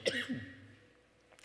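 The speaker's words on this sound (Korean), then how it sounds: "말씀 전할 때 기침이 나네요" A single short cough from a pastor during a sermon, close and fairly quiet, trailing into a brief throaty rasp before near-silence.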